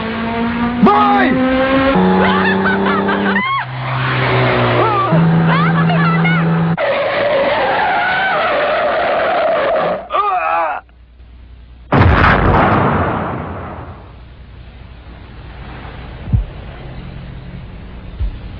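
Animated-series car skidding with a long, loud tire squeal, then a heavy impact thud as it hits a person, followed by fading rumble; voices speak over the start.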